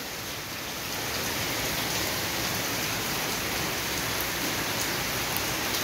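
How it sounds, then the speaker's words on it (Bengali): Heavy rain pouring down in Uttar Pradesh after falling since the night, a dense, steady roar of drops on surfaces that holds constant and loud from start to finish, with no voices. "ভীষণ বৃষ্টি পড়ছে রাত্রির থেকে।"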